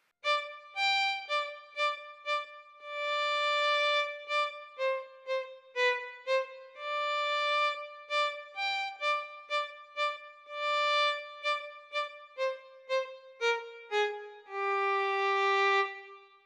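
A SWAM virtual violin played on a ROLI Seaboard carries the Fiddler on the Roof opening tune, a solo melody of expressive bowed notes with slides and a long held final note, clean and alone.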